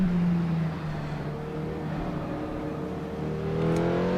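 The Porsche 918 in the racing game Assetto Corsa holds a steady engine drone, its pitch swelling and easing through the revs, loud and continuous with no talk over it.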